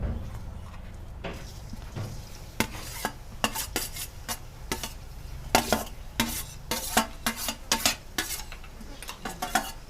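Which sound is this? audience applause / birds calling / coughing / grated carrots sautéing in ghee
grated carrots sautéing in ghee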